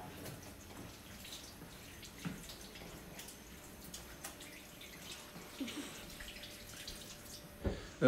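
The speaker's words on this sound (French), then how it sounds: "Je vais juste me laver les mains" Water runs steadily from a kitchen tap while hands are washed during a citrus dessert cooking session. The wash is a soft, even hiss with a few faint splashes and knocks, and no one speaks.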